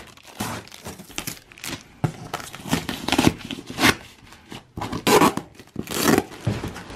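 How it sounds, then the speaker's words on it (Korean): Thick plastic wrapping rustles and crinkles as a camping mat for a tent floor is unboxed, in repeated close bursts of crackling and handling noise. "우와, 이렇게 매트가 비닐에 담겨서 왔는데 상당히 두툼하네요."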